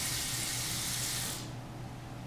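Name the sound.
warm water poured into an Instant Pot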